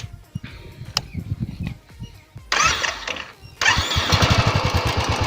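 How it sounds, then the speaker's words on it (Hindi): A 2017 BS4 Royal Enfield motorcycle fitted with its stock BS4 exhaust silencer starts up and settles into a steady, loud thumping idle close to the microphone, with some voice heard before it starts. "here is the exhaust sound of BS4 model 2017"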